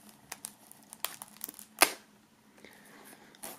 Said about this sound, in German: die werden wir natürlich mal aus der Folie befreien